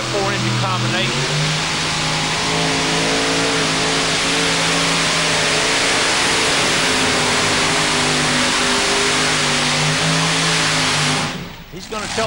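Four-engine modified tractor pull rig at the 2008 NTPA Championship in Bowling Green, Ohio, roars loud and continuous with layered engine harmonics for about eleven seconds, then cuts off sharply near the end.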